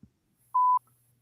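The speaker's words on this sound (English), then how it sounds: "Did it beep?" A single clean electronic phone beep, a steady tone lasting about a quarter second in near silence.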